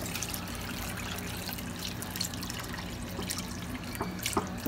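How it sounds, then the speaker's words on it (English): Liquid is poured into a cooking pot on a stovetop, a steady trickling, splashing stream running continuously for several seconds without speech. "Then what I'll do is pour in the liquids."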